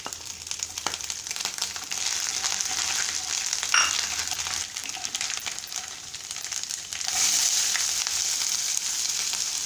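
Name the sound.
coconut pieces and lentils frying in oil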